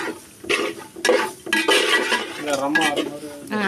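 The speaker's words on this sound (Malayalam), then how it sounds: "ഇളക്കിക്കൊണ്ടിരിക്കണം ഉരുളിയിലാണ് നമ്മൾ വറുക്കുന്നത്" A spoon scrapes and stirs grated coconut roasting in a large uruli vessel. Loud metallic strokes come in bursts over a low dry sizzle, close up.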